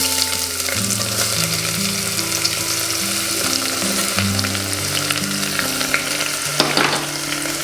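Chopped onion and green chillies sautéing in a pan for tomato rice, with a steady, close sizzle and light stirring throughout, no voices.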